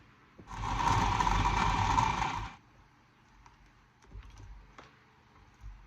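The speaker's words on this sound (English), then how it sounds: "roughly chop my cucumbers and throw them in the food processor" A food processor chops roughly cut cucumbers in one loud, steady whirring burst of about two seconds, followed by quiet clicks and light handling sounds.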